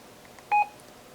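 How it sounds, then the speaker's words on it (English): A single short electronic call tone beep from a Retevis RA86 GMRS mobile radio, clean and steady, sounds once against a quiet background hiss. "Call tones, so we have different tones we can use."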